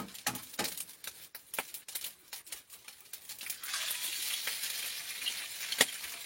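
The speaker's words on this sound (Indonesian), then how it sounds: "Kita mau goreng nasi sisa kemarin." Leftover rice being fried in a pan over an outdoor fire at a sand mine, with irregular stirring clicks and scrapes giving way to a steady soft sizzle, quiet and close.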